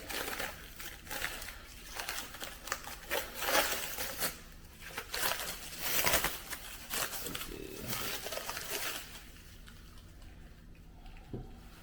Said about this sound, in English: I'm just gonna unwrap the one